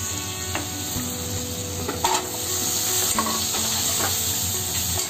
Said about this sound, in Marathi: पाण्यात भिजत घातलेलं हे आता फोडणीत टाकते